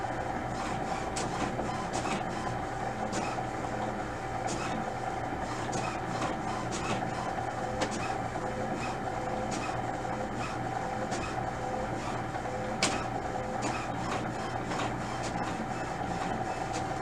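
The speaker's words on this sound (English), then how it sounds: "now I've finished printing the alignment page" Steady mechanical whirring and rumbling of an HP OfficeJet Pro 8028 inkjet printer printing an alignment page, with faint rhythmic clicks, close by and without talk.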